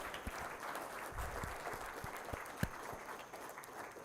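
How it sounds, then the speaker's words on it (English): An audience at the IIT Madras Reunion 2023 gives the IIT Madras team a steady round of applause, with dense overlapping clapping filling the room for a few seconds and one sharper clap standing out partway through. "I just want us to give a big round of applause to the entire IIT Ma team"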